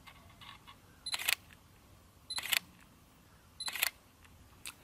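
Three separate shutter actuations from a Sony Alpha A7R II mirrorless camera, each a quick, crisp mechanical click-clack about 1.2 seconds apart, close and quiet against a faint background hiss.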